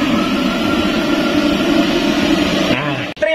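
A large stove burner for cooking rendang, built for a Padang restaurant, roars steadily like a jet of gas, then sputters and shifts near the end with a sharp click and a brief drop in sound.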